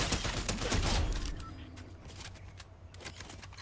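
Rapid gunfire bursts crackle in a shooter video game, a dense volley in the first second and a half followed by scattered, fainter sharp shots.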